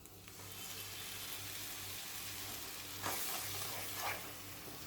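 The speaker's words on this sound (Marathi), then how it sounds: "आता यामध्ये आपल्याला हा पल्प टाकून घ्यायचा आहे" Mango pulp cooks and is stirred in a pan over a low flame for coconut mango ladoo, giving a steady, close sizzle with soft scraping strokes and a couple of brief louder swishes.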